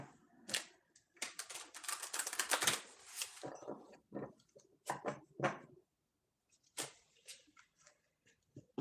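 Tarot cards being shuffled by hand, bursts of crisp papery riffling and flicking in irregular clusters with short pauses between, close and fairly quiet.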